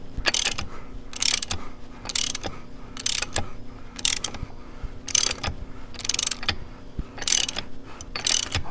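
Tools working on a Harley-Davidson Sportster bottom end, tightened to press a seal into place: repeated bursts of ratcheting clicks about once a second, close and fairly loud, with no talk.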